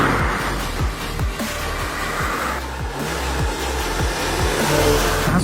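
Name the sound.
BMW M235i Gran Coupé engine accelerating in sport mode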